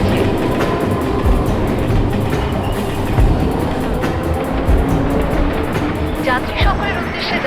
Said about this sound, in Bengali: যোগেশ্বরী টু আন্ধেরি যাওয়া লোকাল 12 নম্বর প্ল্যাটফর্মে আসছে।